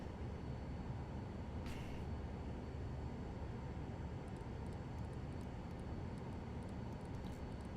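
Airplane engine roaring steadily during a takeoff in Microsoft Flight Simulator 2020, a continuous broadband rumble held at low, even level with no talk over it.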